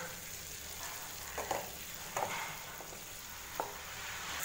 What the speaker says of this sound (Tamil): லோ ஃப்ளேம்லேயே முட்டையை பார்த்திங்கன்னா நல்லா ஃப்ரை பண்ணிட்டோம்